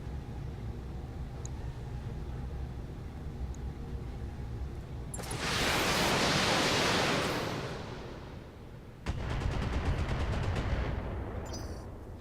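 Mech weapons firing in the video game BattleTech during multiplayer combat on a Death Valley map: a long roaring burst of fire, then a rapid rattling volley over a steady low rumble.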